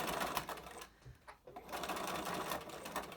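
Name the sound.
sewing machine top stitching a fabric mask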